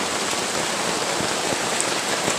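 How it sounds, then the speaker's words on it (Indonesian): Heavy rain pours steadily in a rural durian orchard, a dense, loud, unbroken hiss with scattered louder drops, no voices. "Hujan lebat geng"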